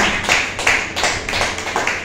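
A short burst of clapping from a church congregation, with several loud, uneven pulses of applause in quick succession.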